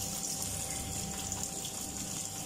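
Tap water runs steadily while bitter gourd (ampalaya) is washed for cooking with shrimp, a constant close gushing stream with no talk.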